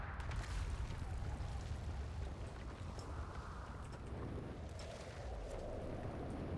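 Loud, sustained rumbling roar from an in-game explosion in Outer Wilds, a dense low-heavy wash of blasting noise with crackling bursts that holds steady across several seconds without a break.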